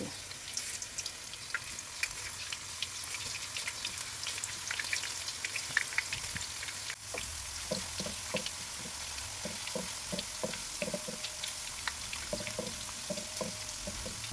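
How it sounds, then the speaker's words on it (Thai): Raw banana slices deep-frying in hot oil, a steady soft sizzle with scattered bubbling crackles, close and continuous, no voices. "น้ำมันร้อนแล้วนะคะ เราจะใช้ที่ปอกผลไม้แบบนี้ ค่อยๆใส่ กล้วยนะคะ ให้เป็นแผ่น ใส่ลงไปเลย"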